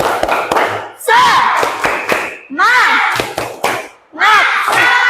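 An Indonesian school class claps a rhythmic spirit-clap pattern, bursts of unison hand claps and thumps alternating with children chanting and shouting together, loud and close.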